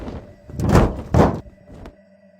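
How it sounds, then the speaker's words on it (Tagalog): Two heavy, muffled thuds land overhead on a house roof at night, each a loud low impact about half a second apart, followed by a fainter knock and a quiet background hum. "Nakaramdam ng kilabot si Princess nang may kung anong malakas na lagabog ang narinig niya mula sa bubong"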